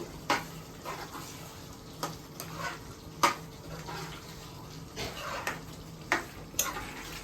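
Chili-powdered prawns being stirred in a pan for a home-made prawn roast, with soft sizzling under scattered scraping and clinking of the spoon against the pan, sharp knocks recurring every second or so.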